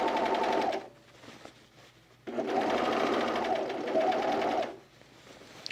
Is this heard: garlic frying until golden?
no